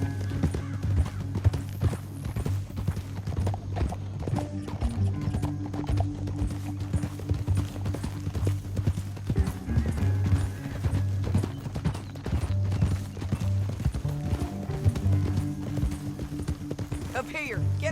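Hooves pound in a quick, steady gallop in Red Dead Redemption 2 for the whole stretch, with a horse whinnying near the end over a low musical bed.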